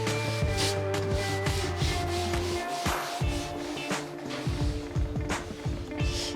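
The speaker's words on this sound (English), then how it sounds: "Just gonna wipe it off real good just to see what we get." A cloth wipes across a Blackstone griddle's steel cooktop outdoors in the cold, steady rough rubbing strokes repeating close by, with a low hum underneath and no talk.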